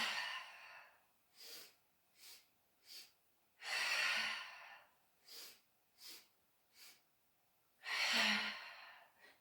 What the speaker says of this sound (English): Nice breathing exercise, nice and energizing.